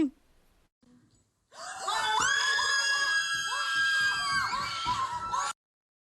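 A family screams with joy on getting a University of Pennsylvania acceptance, several voices shrieking loud and sustained for about four seconds after a brief quiet murmur.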